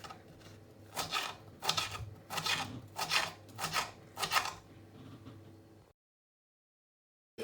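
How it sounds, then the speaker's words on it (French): A knife slices okra into rounds on a board, about six crisp, evenly spaced cuts ringing out one after another before the sound cuts to silence. "je vais découper ces gombos rondellement"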